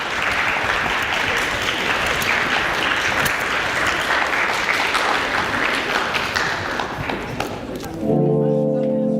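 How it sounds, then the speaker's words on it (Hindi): An audience applauds loudly and continuously as a woman is welcomed onto a stage, dense clapping sustained for about eight seconds before cutting abruptly to a quieter tonal sound. "आप सबकी भरपूर तालियों में मिस जहां आरा।"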